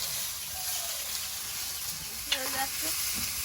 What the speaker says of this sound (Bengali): আলু ভাজা একটু নুন দেবো